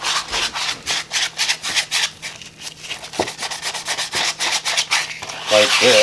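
Tarlatan cloth rubbed over an inked plastic drypoint plate, making repeated close, coarse scrubbing strokes in a quick, steady rhythm with brief pauses.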